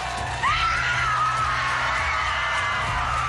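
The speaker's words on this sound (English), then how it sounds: "I want to listen to that scream again" A competitor on the American Ninja Warrior Dallas qualifying course screams, one long, loud, sustained cry starting abruptly and held for about three seconds over a noisy arena background.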